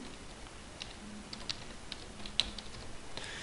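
A search keyword is typed on a computer keyboard: a quiet run of light, quick key clicks at an uneven pace, with a couple of sharper taps standing out.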